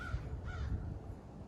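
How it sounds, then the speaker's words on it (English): An American crow caws several times at a distance, faint harsh calls repeating over steady outdoor background noise. "American crow."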